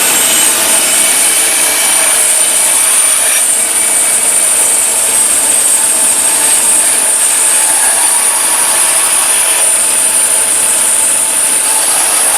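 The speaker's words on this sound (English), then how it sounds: "Now I'll go saw it out." A hand saw cuts a wooden guitar bridge blank in a guitar-making workshop, producing a loud, continuous close-up rasp without pauses or talking.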